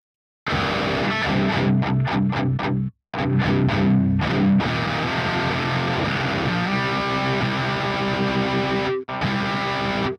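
Electric guitar run through a Grind pedal into a backed-off DS1 distortion pedal, loud saturated chords with rhythmic stabs, sustained ringing notes and brief silent pauses between phrases.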